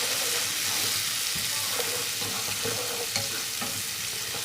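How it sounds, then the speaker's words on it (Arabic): Onions frying in hot oil, a loud, steady crackling sizzle heard close up throughout, with faint stirring scrapes and small pops from the pan. "بعد ما الزيت بتاعنا سخن هنزل بالبصل"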